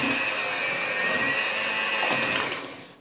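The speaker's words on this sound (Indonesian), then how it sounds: "selanjutnya ini kita mixer ya" An electric mixer beats steamed bread batter for a gluten-free recipe, giving a steady, high whirring hum, close and fairly quiet, that holds evenly for almost three seconds before trailing off.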